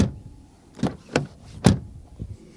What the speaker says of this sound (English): Then we open the door and door closing sound.